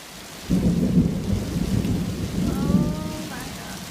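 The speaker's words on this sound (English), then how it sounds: "the wind is blowing and it's pushing the rain." Heavy wind-driven rain pours down in a dense hiss, and a deep rumble of thunder rolls through near the start, with a faint voice-like sound near the end.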